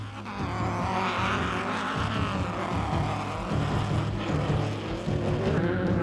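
Four-wheel drive vehicles in an off-road race: loud, continuous engine roar that rises and falls as the motors rev, with no speech.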